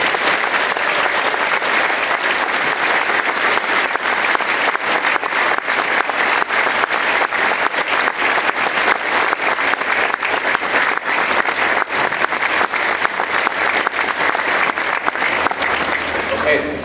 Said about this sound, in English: Please give a round of applause to the class of 2017.